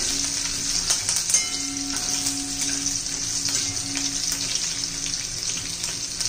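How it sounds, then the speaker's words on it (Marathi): Garlic sautés in oil toward golden brown, a close, continuous frying sizzle with light scattered crackles and occasional faint stirring scrapes. "छान असं लसूण आपण तांबूस रंगावर होईपर्यंत परतून घेणार आहोत"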